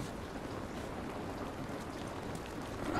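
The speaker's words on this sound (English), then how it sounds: "It's raining." Rain in the video game The Last of Us falls as a soft, steady hiss outdoors, faint and even throughout, with no voices over it.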